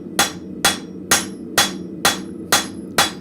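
Hammer forging a steel arrowhead down to about 1 millimeter thick: seven sharp, evenly spaced metallic blows in a steady rhythm, loud and close, with no talking.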